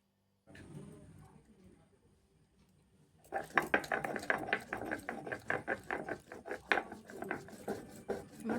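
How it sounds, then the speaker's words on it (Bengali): Spice paste being ground on a grinding stone for a Bengali singi fish curry with gandal leaves, a repeated scraping, knocking rhythm of stone on stone, close and steady after a quiet start. "এবার মশলাটাকে আমি বেটে নেবো"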